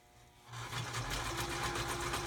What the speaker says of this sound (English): I really do like adding my lace and things with the sewing machine